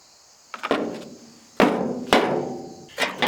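Several sharp metallic knocks from a rock chipping hammer striking metal, each ringing briefly, spaced irregularly and heard up close.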